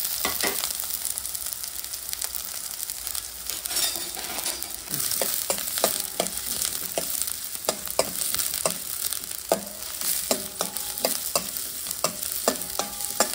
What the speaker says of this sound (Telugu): ఒక 2 to 3 minutes ఇలా కొంచెం ఆయిల్లో ఫ్రై చేసుకోండి